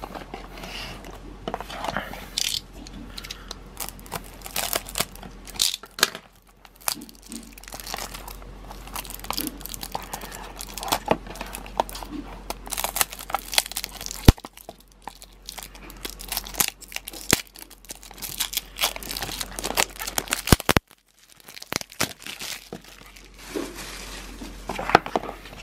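Unboxing a Tomica die-cast toy car: close, busy crinkling and tearing of cardboard and plastic packaging in irregular bursts, with a short pause partway through.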